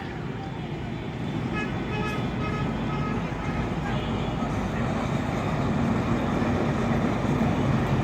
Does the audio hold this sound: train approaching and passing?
yes